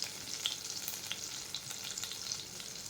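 Garlic fries in pure cold-pressed peanut oil for a pumpkin stew, a soft steady sizzle with light crackles and occasional stirring, close and fairly quiet with no talking.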